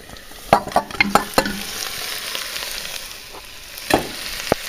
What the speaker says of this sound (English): we're just basically going to let those kind of brown off for just a minute here